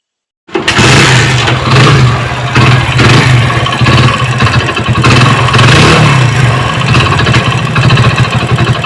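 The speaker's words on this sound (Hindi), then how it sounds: "इंजन साउंड प्रॉब्लम है।" A Hero Splendor motorcycle engine with a faulty running sound starts abruptly and runs loud and close, a rough, uneven idle with repeated revving surges and a persistent knocking undertone throughout.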